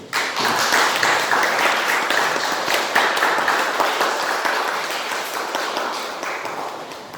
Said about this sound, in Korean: 환영의 박수로